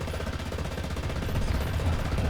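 Gunfire from a tank in the War Thunder video game, in a Stalingrad battle against a tank destroyer: a dense, loud, continuous rattle of shots over a deep rumbling low end, with no speech.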